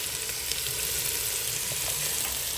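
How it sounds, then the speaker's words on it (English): Chopped onion, carrot and celery sauté in a pan for a cabbage soup, giving a continuous dense close sizzle with faint crackles, steady and unbroken with no talk. "We're going to saute for about 8 minutes."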